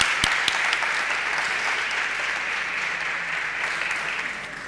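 An audience at a presentation of a draft mediation law in València breaks into applause, a dense, sustained clapping with a few sharp nearby claps at the start, easing gradually toward the end.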